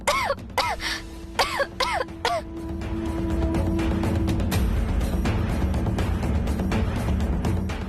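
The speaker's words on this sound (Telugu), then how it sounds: "కిచెన్ లో ఎవరో దగ్గుతున్నారే." A child-like cough comes from a kitchen in a Telugu TV serial scene: about five sharp, close coughs in quick succession, then a steady background hum.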